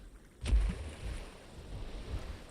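A dinosaur in the Path of Titans game, a duck-billed Deinocheirus, charges into water, a sudden splashy whoosh followed by soft continuous sloshing and wading.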